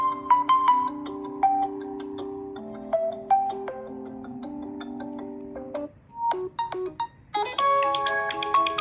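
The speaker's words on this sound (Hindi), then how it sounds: "ये Realme की साउंड है।" A Realme C61 smartphone plays its ringtone through the phone speaker, a bright melodic chime pattern of short notes that shifts into a busier, denser phrase near the end, with no talking.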